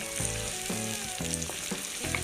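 Marinated chicken frying in softened masala for chicken korma, a steady close sizzle with stirring and pan scrapes running throughout, no voices.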